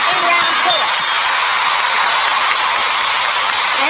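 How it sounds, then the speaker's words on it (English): A boxing arena crowd at the Barrera versus Marquez fight roars loudly and steadily in a dense, unbroken wash of cheering, with a voice talking over it. "the crowd rises to appreciate the intensity of this war"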